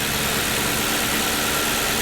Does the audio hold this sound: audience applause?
no